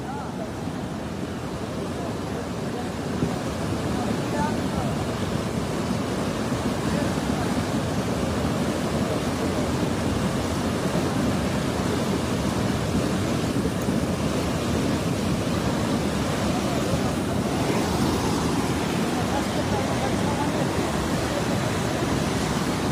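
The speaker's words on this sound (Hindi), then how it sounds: "ये इस वक्त आप लोग देख सकते होंगे कि पानी पुल के पिलर से टकरा के जो ऊपर को उभर रहा है।" Floodwater surging against the pillars of a bridge over a swollen river, a loud, steady broadband roar of rushing water that continues unbroken throughout, with no break or change in force.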